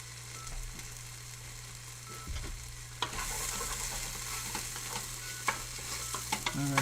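Onions fry in a pan while being stirred, with a continuous sizzle and scraping stir sounds over a steady low hum, louder and brighter after the first few seconds, with a few sharp utensil clicks near the end.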